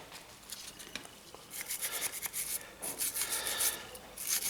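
Scrubbing brake dust off the front brake pistons of a 2017 Suzuki V-Strom 1000 after spraying cleaner, a faint, close, irregular brushing and rasping that grows busier toward the end.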